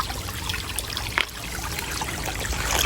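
River water trickling and babbling over stones, a steady close wash of gentle flowing noise with no voices.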